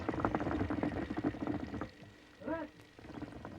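A nargila water pipe bubbles as it is smoked in a Grand Bazaar shop, gurgling bursts of water under nearby voices, then a quieter gap with a brief sharper bubbling sound.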